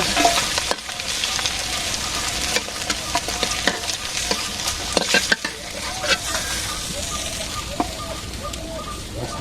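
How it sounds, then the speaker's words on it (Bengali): Mustard oil sizzling in a pan while a spatula stirs and scrapes, busy crackling frying with repeated metallic knocks, loud and close, running steadily throughout with no speech. "সরিষার তেলটা রান্না করতেছি"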